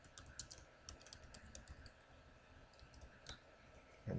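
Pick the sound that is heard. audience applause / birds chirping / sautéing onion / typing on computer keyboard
typing on computer keyboard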